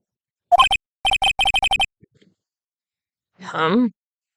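A short telephone tone from the video game Phoenix Wright: Ace Attorney sounds after the other party hangs up, with a quick run of repeated electronic beeps followed by a brief tonal burst.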